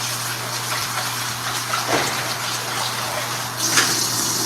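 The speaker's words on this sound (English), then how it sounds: "We rinse our rice off." Water running steadily into a pot of rice being rinsed for sweet butter rice, a continuous close gushing rush with slight splashy swells and a low steady hum beneath, no voices.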